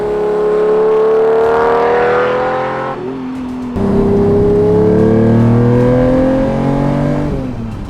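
A Lamborghini Diablo V12 revs loud and close, its deep engine note climbing in pitch, dropping briefly after about three seconds, then rising again before easing off.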